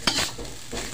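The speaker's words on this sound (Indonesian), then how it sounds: "kita kusrang-kosrengin lagi, kita aduk ya sampai merata" Turmeric fried rice being stirred in a frying pan over raised heat: quick scraping and tossing strokes with a soft sizzle underneath, close and fairly loud, no voices.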